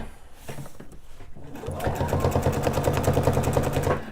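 A domestic sewing machine with a walking foot quilts along a ruler, starting after a short quiet rustle and then running in a fast, even stitching rattle, close and steady for several seconds.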